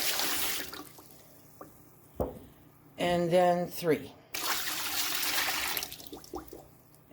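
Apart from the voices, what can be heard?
quarts of water poured into Presto pressure canner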